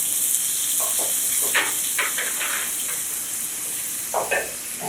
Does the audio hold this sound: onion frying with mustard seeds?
yes